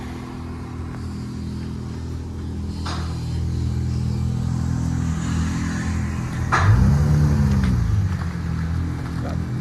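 A V6 Chrysler 300S idles with a low steady rumble, then gives a single short rev that swells and falls away, close by, with no talking.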